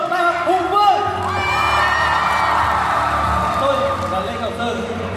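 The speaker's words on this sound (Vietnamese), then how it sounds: "Hãy nhổ một tràng pháo tay để chào đón tôi." Crowd cheering with whoops and shouts at a Hung Vuong University event welcoming a lecturer who addresses first-year students. The noise is loud and steady for about five seconds, with voices rising through it.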